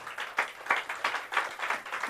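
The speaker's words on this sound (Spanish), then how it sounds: "Denle un aplauso a nuestro Dios." Church congregation clapping in rhythmic bursts during a Spanish-language worship service, steady loud applause filling the room.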